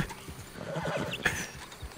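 Horse in the Western video game Red Dead Online, with faint hoofbeats and a brief whinny heard alone over a short stretch.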